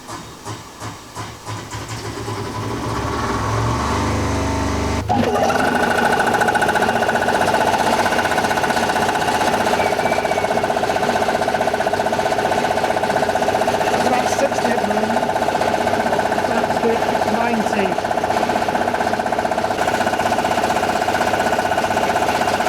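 Air compressor running in a workshop during a Land Rover Series 3 restoration: a loud, steady mechanical drone with hiss that builds over the first few seconds, then settles into a constant close roar.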